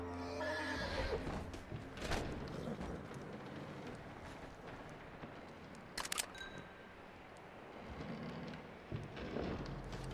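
A horse in Red Dead Redemption 2 gives a loud whinny at the start, then low snorts and shuffling over a steady bed of outdoor game ambience, with a couple of sharp clicks later on.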